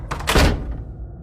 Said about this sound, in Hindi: दरवाजा अपने आप बंद हो जाता है।